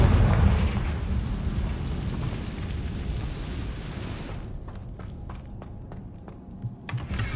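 A Confringo explosive curse blast in Hogwarts Legacy sets off a loud, deep rumbling boom that slowly fades, followed by a scatter of light crackles and ticks as debris settles.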